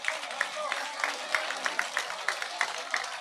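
A crowd applauds to welcome MLA Devender Kadyan at a Haryana election gathering, a steady wash of clapping with sharper individual claps standing out in a loose rhythm over a few seconds.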